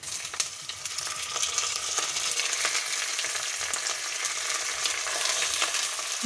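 Half a kilo of mutton fries in hot oil for a curry, producing a dense, continuous crackling sizzle up close, with light stirring ticks throughout.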